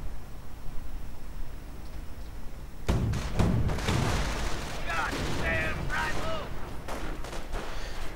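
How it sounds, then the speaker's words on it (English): Mortar rounds and gunfire in a WWII real-time strategy game: after a quiet stretch, a burst of thumping impacts and crackling shots rolls on densely, with a voice talking over the battle. "Mortar rounds flying through the air."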